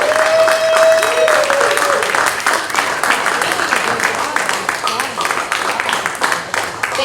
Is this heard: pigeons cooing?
no